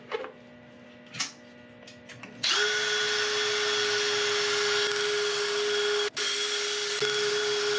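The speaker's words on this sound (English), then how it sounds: "I've got a mop sponge on the end of my drill" A power drill fitted with a mop sponge buffs a piece of turned yew wood, starting with a few faint clicks, then spinning up into a steady, loud whine with a brief dropout before running on.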